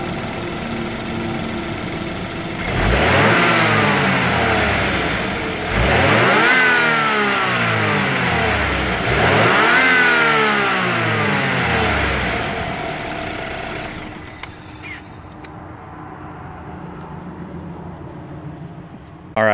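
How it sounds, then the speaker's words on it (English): A BMW 328i N26 turbo engine with a K&N drop-in filter revs three times in a row, each blip rising and falling with turbo spool and intake whoosh, then settles back to a quieter idle. "Hear the turbo spool a little bit, and then the intake sucking air."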